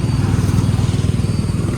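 A 2017 Royal Enfield Himalayan motorcycle with about 30,000 km on it idles close by, its single-cylinder engine giving a steady, loud, evenly pulsing thump throughout.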